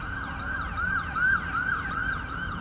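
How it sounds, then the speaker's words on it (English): Ambulance siren wailing along a street in Leeds, a repeating up-and-down wail that swells slightly as it passes, loud and steady with road noise beneath, no voices. "Another ambulance, blimey."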